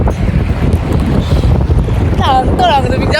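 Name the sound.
strong wind blowing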